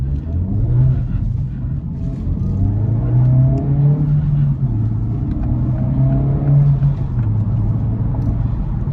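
A 2024 Acura Integra Type-S engine while driving, heard from inside the cabin: a steady low burble and drone that swells slightly as the revs change, with brief talk over it.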